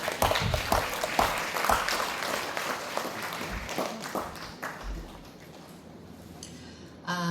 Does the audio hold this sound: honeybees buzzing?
no